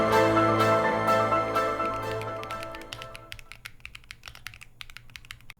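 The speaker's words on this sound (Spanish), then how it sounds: "este es mi primer teclado mecánico. El Keychron Q2 Pro." Typing on a Keychron Q2 Pro mechanical keyboard: crisp, rapid key clacks emerge as a fading musical passage dies away, close and clear.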